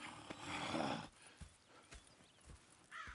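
Horses in Red Dead Redemption 2 whinny loudly over the first second, then hooves clop in a few scattered steps, with another short neigh near the end.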